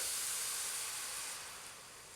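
A steady, loud hiss of stock poured into beef frying in a hot pan, continuous throughout and easing slightly toward the end.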